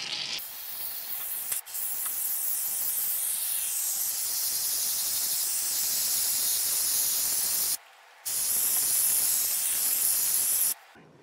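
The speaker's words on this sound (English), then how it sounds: "all we need to do is spray on the shaving cream" Shaving cream hisses out of an aerosol can in long continuous sprays onto leather, close by, with a couple of brief pauses between bursts.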